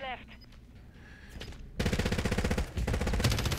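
Rapid bursts of HRM-9 submachine gun fire in a first-person shooter video game, a loud sustained rattle of repeated shots after a quieter stretch of game ambience.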